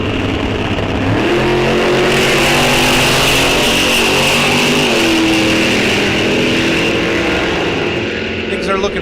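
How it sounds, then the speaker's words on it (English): A drag race car at a bracket series event at Rock Falls Raceway revs hard with several loud throttle blips, the engine roaring close and continuously under an announcer's commentary. "A few whaps on the throttle."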